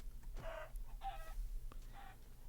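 A Minecraft chicken clucks three times in short, evenly spaced bursts, clear and close against a quiet low background hum.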